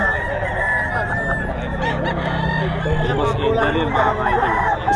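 Roosters crow loudly and repeatedly at a gamefowl seller's in Bocaue, Bulacan, with clucking and other fowl filling the close, busy yard.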